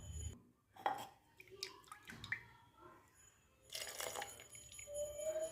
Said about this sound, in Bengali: একটু জল দিয়ে ধুয়ে এটা দিয়ে দেব।